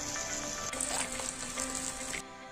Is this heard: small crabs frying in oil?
yes